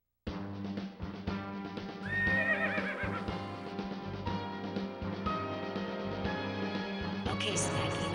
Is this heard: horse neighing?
yes